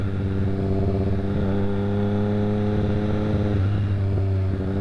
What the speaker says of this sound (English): this 3-cylinder engine just sounds fantastic